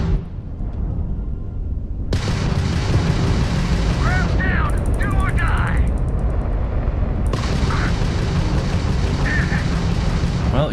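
Weapon fire in the sci-fi game Starfield during a space combat against Crimson Fleet ships, with loud repeated bursts and booms layered over a constant roar of engines and effects, pulsing laser-like zaps mid-clip.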